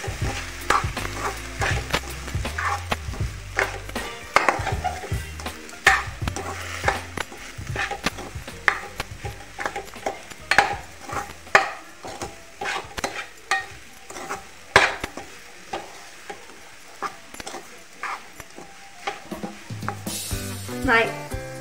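Sweet chivda made from leftover chapati being stirred in a kadhai, repeated scraping and clinking of a spatula against the pan over a low sizzle, with irregular knocks throughout.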